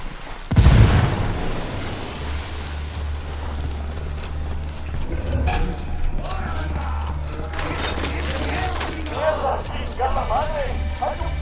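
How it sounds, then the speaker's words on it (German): A grenade blast in Ghost Recon Wildlands: one heavy, close boom early on, followed by lingering rumble and scattered gunfire and clatter, with players talking over the continuing game noise. "Granate fliegt, nehmt das."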